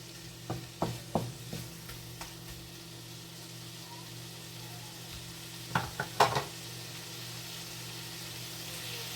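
Shrimp fry in a pan with a soft, steady sizzle, broken by a few clusters of sharp utensil clinks and scrapes, close and fairly quiet.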